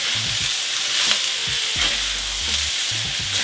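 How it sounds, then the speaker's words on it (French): Sliced bell peppers fry with onion, garlic and ginger for a black-pepper beef stir-fry, making a loud, steady sizzle close up, with scraping stirs from a utensil and no talking. "on rajoute les poivrons. Et on va les faire cuire pour environ 2 minutes."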